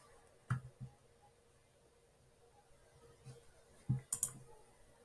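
Computer mouse clicking, a few faint, crisp clicks spaced apart in a quiet room, with a quick cluster of two or three near the end.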